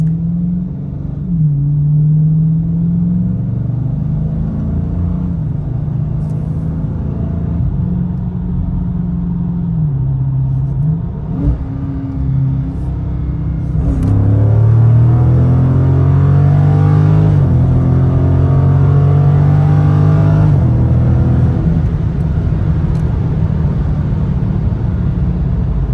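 Camaro SS and Scat Pack Charger V8s with stock exhaust make a pass: deep burbling idle rumble, then a louder rising rev as the engine climbs through gears and fades.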